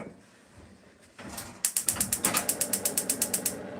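A gas stove burner being turned on: a brief scrape of the knob, then a rapid, steady run of about a dozen sharp igniter clicks, close by and alone, with no talking.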